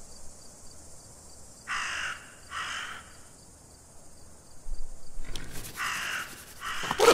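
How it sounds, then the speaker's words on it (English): A raven cawing in the video game Detective Hayseed - Hollywood: two harsh caws, a pause, then a louder cluster of rasping caws over a faint high hum. "What a mean raven."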